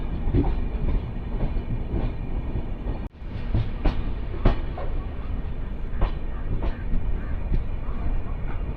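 Mandovi Express running near Karmali station, a continuous loud rumble of rail wagons with recurring clacks from the wheels over joints and a momentary dip partway through.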